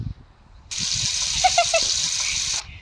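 Water runs in a steady gush for about two seconds, likely a shower, starting abruptly and cutting off, with faint low murmuring beneath it.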